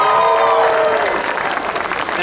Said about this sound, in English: Can we give a round of applause for all of our speakers?